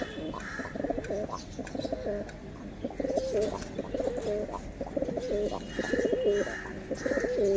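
Pigeons coo steadily and softly in repeated low, throaty phrases, several birds overlapping against a faint background hum.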